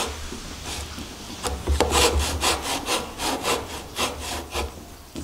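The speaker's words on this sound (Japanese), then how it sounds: "目分量で切っていってやっています" Hand saw cutting wood for a half-lap joint on a joinery stool, a run of steady rhythmic rasping strokes, close and fairly loud, with no talking.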